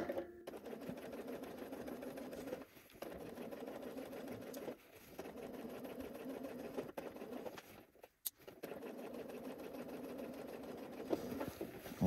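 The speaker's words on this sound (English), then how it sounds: "So let's go to the sewing machine and sew this closed." A sewing machine stitches a jacket closed, running in steady fast whirring bursts near the microphone, broken by several short pauses, no talk.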